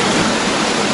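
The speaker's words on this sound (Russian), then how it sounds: "здесь из одной фракции вода перетекает в другую" Water pours steadily from one pond into another, a dense, close rushing flow with no pauses.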